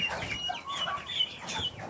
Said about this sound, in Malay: Cuma anak ayam yang kecil tu dia keluar dekat sini